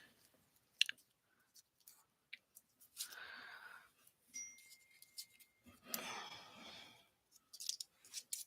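Scissors snip craft card stock while making sled cards and tags, with a few sharp close snips and short cutting runs separated by quiet pauses and light handling clicks.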